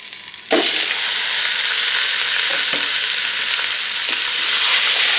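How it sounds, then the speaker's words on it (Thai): Beef hits a pot of browned onions and bay leaves for a stew and erupts into loud, continuous sizzling after a brief quiet start. It hisses steadily and close up as it is stirred. "พอใส่เนื้อลงมาแล้ว ผัดคลุกเข้ากันแล้วเนี่ย"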